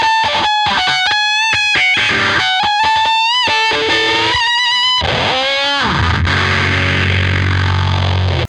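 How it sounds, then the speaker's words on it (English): Electric guitar soloing through a Big Muff fuzz pedal, fast thick distorted single-note runs with bends and slides, ending in a sustained saturated roar, loud and close with no talking. "for like a solo like this, I much prefer to use the Big Muff for that"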